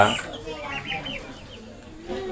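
Large-breed turkeys make a few soft, scattered clucks in quick succession, faint and close by over a low background hum.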